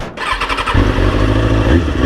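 A 2003 Kawasaki ZX6R 636 motorcycle engine catches and settles into a loud, raw, close idle with a steady rumble and rough, throbbing pulses.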